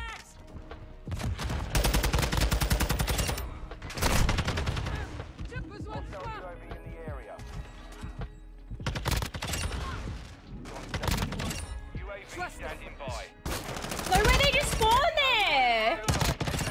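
Video game gunfire from a Call of Duty match cracks in rapid bursts and single shots, some loud and close, others distant, with teammates talking over the action and radio-style callouts mixed in.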